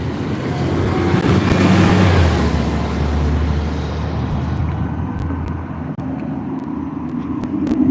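A car passes on a sunny street, its broad road rumble swelling loud and near in the first seconds, then easing into steady traffic noise with a few faint clicks toward the end.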